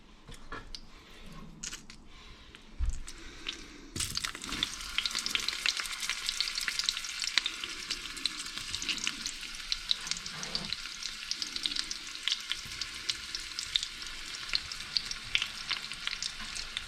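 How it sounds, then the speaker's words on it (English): Onions frying in a pan until golden brown, for topping Käsespätzle: quieter stirring at first, then a loud, steady, crackling sizzle that runs without a break from about four seconds on. "I'm going to fry these onions until they are pretty nicely golden brown"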